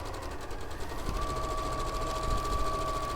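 A sewing machine runs steadily, stitching the diagonal lines of a chained star quilt, with a continuous close mechanical whir and no pauses.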